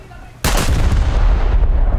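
Heavy battleship artillery shells strike in War Thunder, an Italian premium dreadnought engagement: a sudden loud blast at about half a second, followed by a long rumbling, crackling roar that holds strong through the rest, with no talk.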